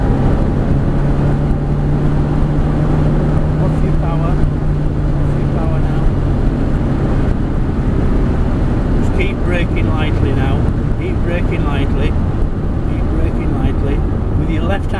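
A Ferrari 360 accelerating up the straight of a racetrack, its engine droning steadily under continuous instructor talk from inside the car.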